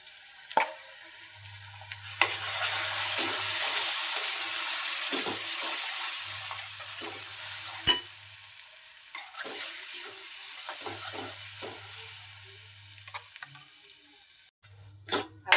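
Masala is stirred and roasted in oil in a pan for Kolhapuri mutton curry, giving a sizzle that swells and fades with each round of stirring, with scraping and knocks from the spatula close by and a low hum at times.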